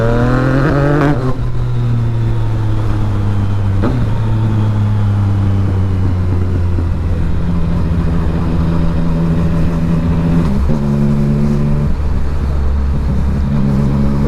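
A 2018 Yamaha MT-09 SP motorcycle engine revs and accelerates hard, loud and close, climbing through several gears with distinct shifts and no talking over it.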